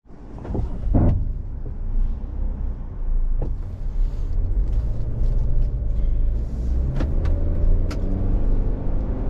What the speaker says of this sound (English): we're out on the road in this 2021 Crosstrek